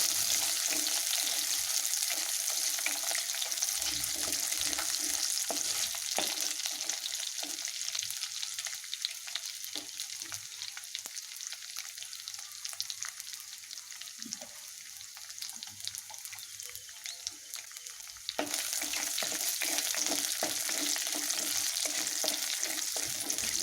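Garlic sizzles and fries steadily in a pan, a dense crackle that drops lower midway and then surges back loud, with occasional stirring scrapes and no talking.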